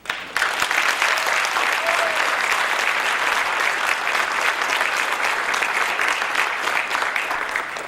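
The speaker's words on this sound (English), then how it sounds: "Another round of applause for Dr. Johnson, please" Audience at Chicago's DuSable Museum breaks into sustained applause for Dr. T. Hasan Johnson, a dense, even roar of clapping that starts abruptly and holds steady for nearly eight seconds.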